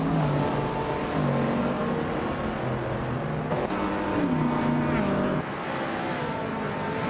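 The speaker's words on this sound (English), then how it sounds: "Bioart is driving a 1969 Chevrolet Camaro, currently in 4th place" A 1969 Chevrolet Camaro engine drones steadily in a race, its pitch stepping up and down through gear changes, loud and continuous alongside other race cars.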